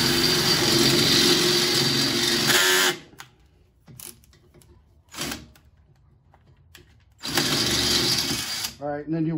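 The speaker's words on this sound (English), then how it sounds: "I'm drilling them out 5/16." A power drill with a 5/16 bit drills out rivets on a Pulsar 12000-watt generator, running in loud close bursts separated by quiet gaps and short clicks.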